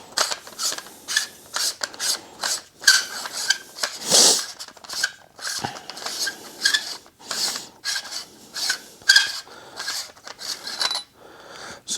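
A threaded outer barrel on a Tokyo Marui VSR One airsoft rifle is unscrewed, giving a close, steady run of rasping, grinding turns in short repeated strokes with brief pauses, alone without talk.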